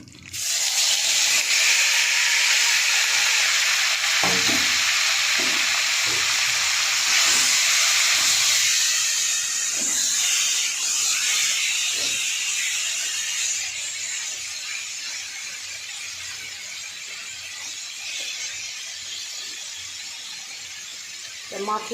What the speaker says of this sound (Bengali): আমার তেল গরম হয়ে গেছে, এবার আমি মাছগুলো দিয়ে দেবো মাখিয়ে রেখেছিলাম।